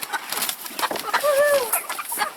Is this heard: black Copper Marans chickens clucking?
yes